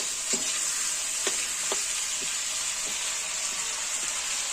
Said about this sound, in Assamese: এতিয়া ধৰি লওক ইয়াত ফ্ৰাই কৰি আছোঁ